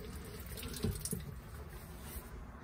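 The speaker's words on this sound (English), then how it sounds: "the tap was gurgling as the water comes through the system" Water sputters and gurgles through an open tap in a 2019 Elddis Affinity 462 caravan as the system fills, a steady low rushing with a couple of sharper bursts and gurgles, close by.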